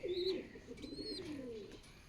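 Young pigeons kept in a home coop give soft, low cooing calls close by, with a couple of faint high chirps above them.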